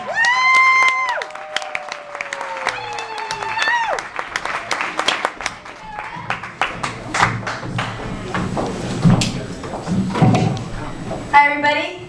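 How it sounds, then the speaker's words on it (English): A live stand-up comedy crowd applauds in welcome for comedian Karen Levine, with a steady wash of clapping and cheering beneath a host's voice, mixed with music-like tones early on and scattered louder claps near the end. "Clap for Karen."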